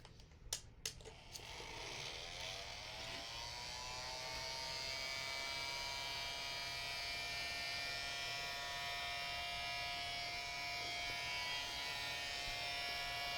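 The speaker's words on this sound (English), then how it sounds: "So I'm going to get out my dryer" A hair dryer starts after a few clicks and blows steadily with a constant whirring hum that holds unchanged for a long stretch.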